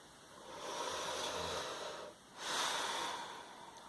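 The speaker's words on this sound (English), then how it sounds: "Just take a moment to connect with yourself and breathe better." Calm, deep breathing sits close to the mic as slow, airy swells. A long drawn breath fades, a short pause follows, and a second breath comes in, with no talking.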